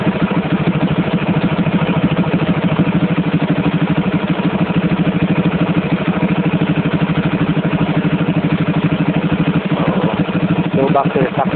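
A motorcycle engine fitted with a Rextor CDI runs loud and close while its ignition timing is adjusted, a steady throbbing drone that rises slightly, with a voice briefly heard near the end.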